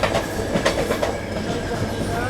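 Rajasthan Sampark Kranti Express, hauled by twin EMD locomotives, running on the approach to Jaipur Junction: a steady loud roll of wagons with rhythmic wheel clatter over rail joints and a faint squeal.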